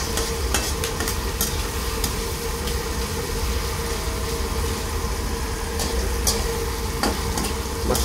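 Meat sautés with tomatoes in a hot pan, giving a steady, close sizzle with occasional stirring scrapes and clinks against the pan throughout.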